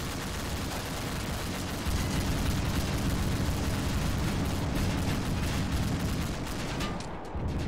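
Gunfire in the military video game Blackhawk Rescue Mission 5 rattles in dense, rapid bursts, with heavy booming shots layered over continuous automatic fire, loud and sustained before it briefly thins near the end.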